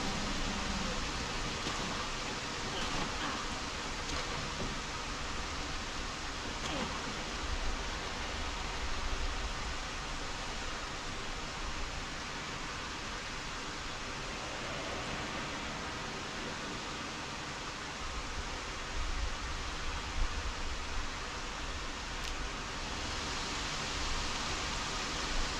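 Steady tropical rain pours down in the survival game Project Zomboid, a continuous broadband hiss that stays even and fairly loud for the whole stretch, with no one talking.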